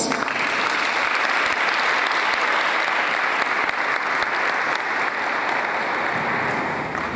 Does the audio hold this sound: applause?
yes